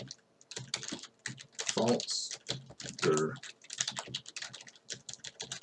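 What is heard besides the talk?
typing on a computer keyboard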